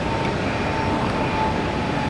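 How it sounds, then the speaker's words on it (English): Airbus A321neo and Boeing 767 jets taxi at Tampa airport, a steady, distant engine whine and broad roar with no talk. "There's the A321 Neo by AA and 767. Hauling butt down the taxiway whiskey."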